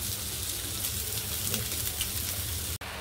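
Anda bread, an egg paratha, fries in a little oil on a pan, giving a steady, close, dense sizzle that runs without a break for nearly three seconds and cuts out abruptly just before the end.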